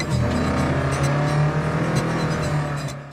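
A Mk2 Ford Escort engine running with a persistent misfire, its low steady drone broken by irregular stumbles and uneven pulses, loud and close with no talking.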